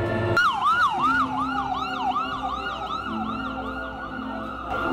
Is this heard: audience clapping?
no